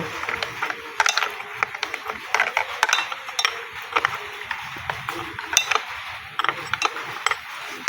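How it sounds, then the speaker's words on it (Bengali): Clamp being tightened on a wood router rig used to cut a wooden drain channel: close, repeated sharp ratcheting clicks and creaks in irregular bursts, with no voices. "এখন টাইট দিয়ে দেব।"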